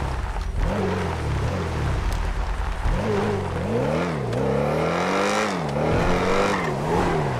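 A Ferrari SUV revs hard in GTA 5, its engine note climbing in repeated rising sweeps through several gear shifts. The loud, continuous acceleration plays alone, with no voices, against a constant background whoosh.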